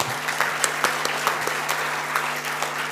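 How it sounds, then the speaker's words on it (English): A round of applause from architecture students at an annual general body meeting, steady clapping with a few sharp individual claps standing out, moderately loud and continuous. "I think that deserves a huge round of applause."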